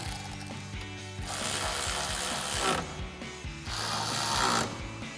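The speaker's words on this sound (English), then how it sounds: "So now we can tighten these down with our 13mm socket." A ratchet with a 13mm socket clicks in fast, loud bursts while tightening bolts on a Jeep Gladiator JT textured black trail door, with brief pauses between runs.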